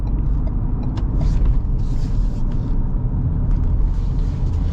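A 2025 Ford Ranger pickup with a V6 engine accelerating, a steady, close, deep engine rumble that holds throughout with no talking.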